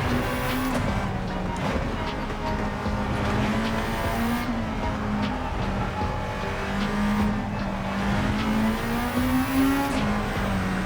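Honda Civic EF Si engine in Gran Turismo 7, revving through gears with rising pitch sweeps and shift dips, accompanied by tire noise and squeal, loud and continuous.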